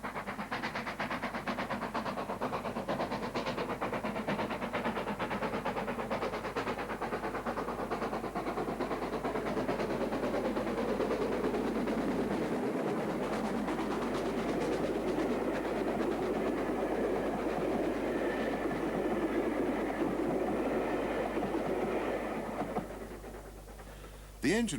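British Railways steam locomotive 62660 hauling a train, a steady rolling rumble with rhythmic wheel clatter that carries on throughout and fades near the end, with talk faintly present.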